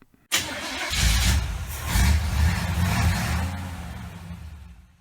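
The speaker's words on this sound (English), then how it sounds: "So let's start the truck and get into it." Truck engine starting: a sharp crank catches suddenly, then settles into a loud, close rumbling idle that slowly eases off, with no voices.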